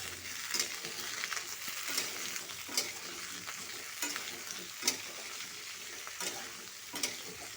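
Okra and potatoes being stirred as they fry in a pan, a steady close sizzle broken by repeated sharp scraping clicks of the spoon against the pan, with no talking.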